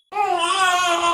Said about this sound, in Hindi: अरे ये रोने की आवाज कहाँ से आ रही है?